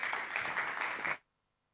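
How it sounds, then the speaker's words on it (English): Audience applause at a business banking dialogue event, a short burst of even, steady clapping from a crowd that cuts off abruptly to near silence. "Let's give her a warm round of applause"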